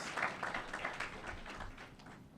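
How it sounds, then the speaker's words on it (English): Applause from an audience at a ceremony marking a change in chairmanship, given for Ms. Carew: soft, fairly distant clapping in a steady patter that thins out over a couple of seconds. "Let's applaud her for her efforts."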